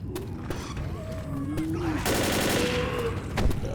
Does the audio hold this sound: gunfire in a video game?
yes